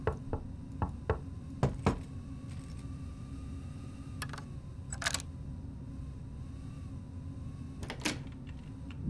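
A door being knocked on in the video game Shadows of Doubt: sharp raps in small clusters, some louder than others, over a low steady background hum.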